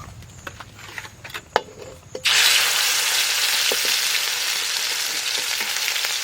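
A spice paste hits hot mustard oil with a sudden loud sizzle that keeps hissing steadily, following a few light clinks and taps of a utensil against the pan.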